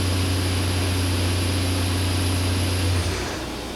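Fadal vertical machining center with a 30-tool umbrella carousel changer running, a loud steady mechanical hum and whine that cuts off and shifts near the end as the tool change happens, with no talking.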